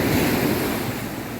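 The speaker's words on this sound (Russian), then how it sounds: "Волны пугают, да?" Caribbean sea waves wash onto the beach at Cancun at dawn, a steady close roar of surf mixed with some wind noise on the microphone, with no voices.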